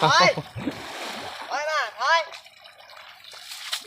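Water splashes and swishes in shallow water as an elephant is scrubbed with leaves, in short bursts near at hand, while someone talks over it.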